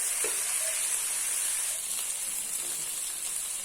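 Mutton chops grill with a steady bright sizzle, a close, even frying hiss with no talk.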